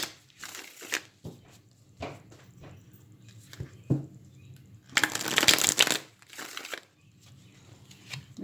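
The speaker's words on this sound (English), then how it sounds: "We shuffle about 3 times." Tarot deck being shuffled by hand, several short bursts of papery card riffling and slapping with a louder flurry near the end, close and otherwise quiet.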